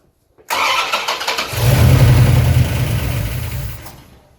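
A 1973 Dodge Charger with a 361 big block engine cranks over and fires, catching after a brief whirring start, then building into a loud, rough, steady idle before trailing off, close by.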